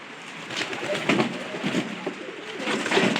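Pigeons coo at a busy market, soft throaty calls rising and falling over a steady bed of crowd noise, close and continuous for a few seconds.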